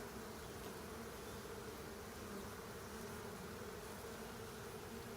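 Honey bees buzz steadily and densely around an open beehive during a spring hive inspection, a continuous close swarm hum filling the whole stretch without any talking.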